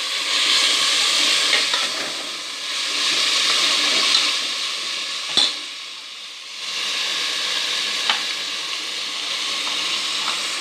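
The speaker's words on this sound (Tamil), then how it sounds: "புதினா போட்டு நல்லா வதக்கணும்." Mint and ginger garlic paste sautéing in a pan for ghee rice and chicken dishes, giving a steady frying hiss with soft stirring scrapes and a brief clatter midway, no talking.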